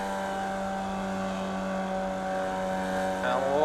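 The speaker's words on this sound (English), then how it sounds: "You can hear that tyre squealing." Formula Vee race car in iRacing at Phillip Island Circuit, engine droning steadily with a high tyre squeal rising near the end as the car understeers through a corner; speech may be faintly present.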